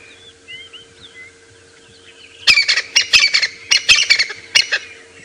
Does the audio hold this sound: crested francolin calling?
yes